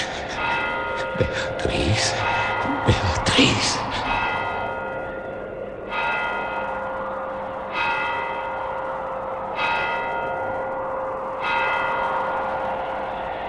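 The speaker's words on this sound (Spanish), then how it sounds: "Las 12 sonaron en el reloj del postigo." A church tower clock bell tolls midnight for a suspense radio drama, with slow, deep, resonant strikes ringing out at even intervals, each left to hum and fade, after a few brief thumps at the start.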